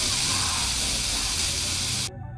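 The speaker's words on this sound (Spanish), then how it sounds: "El gas lacrimógeno es un compuesto químico hecho polvo que se pulveriza a través de un aerosol." Tear gas, a powdered chemical compound, sprays from an aerosol in a loud continuous hiss that stops abruptly near the end.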